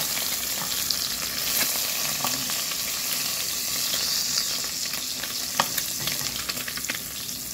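Egg and onion sizzle steadily in a hot pan, a continuous close-up frying hiss with occasional crackles and light stirring clinks, no talking.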